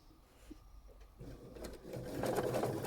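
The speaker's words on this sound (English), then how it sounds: "I am not sewing fast." A sewing machine stitches a quilt block outline at slow speed, a faint soft whirr that starts quietly and builds slightly, close and alone.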